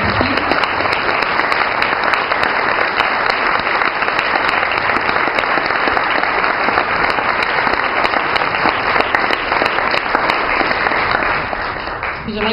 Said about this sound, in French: une round d'applaudissements pour les panélistes